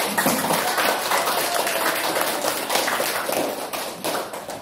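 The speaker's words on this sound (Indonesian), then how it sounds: "Beri tepuk tangan untuk kita semua kembali." Classroom of children clapping hands together at the end of a science lesson, a brisk, continuous patter of many small claps with faint thumps, steady and moderately loud throughout.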